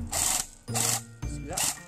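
The electric motor of an airsoft P90 rifle whirs in three short bursts, each cutting off sharply when the trigger is released, with the gearbox giving a buzzing mechanical tone up close.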